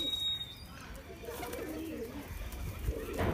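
Pigeons cooing on a rooftop loft, soft repeated low coos close by over faint background rustle and distant ambient noise.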